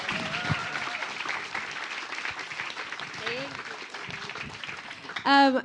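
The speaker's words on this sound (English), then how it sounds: "can we give them one more round of applause before we close tonight?" Audience applause at the close of an evening piano recital of American classics: a soft, diffuse patter of clapping under nearby talk, with a louder voice breaking in at the very end.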